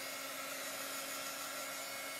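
A dryer blows steadily to dry chalk paste on a sign, giving a constant, close, even whooshing hum with no talk.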